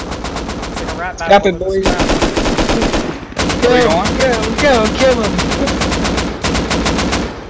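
Rapid automatic gunfire in the Rust video game rattles in long, loud bursts with short gaps, close up, while players shout and talk over it.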